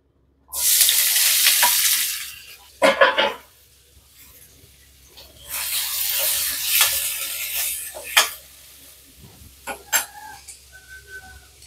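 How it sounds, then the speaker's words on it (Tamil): Four large onions, sliced lengthwise, frying in oil in a pan. Bursts of loud hissing sizzle alternate with quieter stretches, broken by sharp clattering stirs and scrapes, with no voices. "அதுக்கு ஒரு சட்டியை வச்சு கொஞ்சம் எண்ணெயை ஊற்றிக்குவோம். 4 பெரிய வெங்காயத்தை நீளமாக அறுத்து வச்சுருக்கோம். இதையும் போட்டுக்கலாம்."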